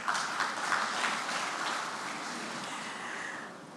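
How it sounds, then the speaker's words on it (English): An audience at a Nigerian independence anniversary public lecture applauds, a dense, even wash of clapping that holds steady and then begins to fade toward the end, with no voices over it. "A round of applause for them."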